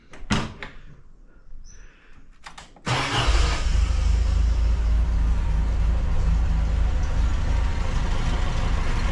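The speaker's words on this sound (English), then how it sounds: "So the engine runs sweet now." A classic MGB sports car engine, just repaired after a failed brake servo diaphragm, starts after some clunks and door sounds and then settles into a steady, loud, close idle that runs smoothly to the end.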